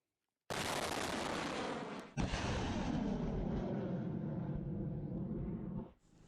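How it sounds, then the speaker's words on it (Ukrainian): A Ukrainian multiple rocket launcher fires a salvo at near maximum range: a sudden roaring blast that sustains as a continuous rushing roar, with a sharp crack partway through, then cuts off abruptly. "Зараз буде залп."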